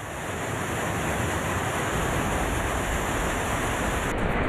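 The flooding Dhauli Ganga river rushing after a glacier burst, a loud, steady roar of torrential water close by that fills the whole clip without pause.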